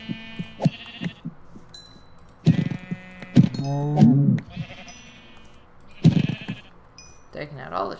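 Sheep in Minecraft bleat several times in short wavering calls, a few overlapping, while a person talks between and over them.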